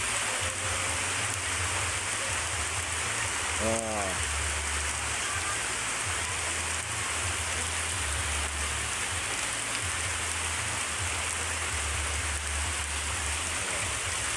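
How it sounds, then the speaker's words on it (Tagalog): Steady, dense rain pours down close by in Quezon Province, Philippines, a constant hiss with a low rumble underneath and a brief tonal chirp early on. "Kaya ngayon ulit binuhos ang ulan oh."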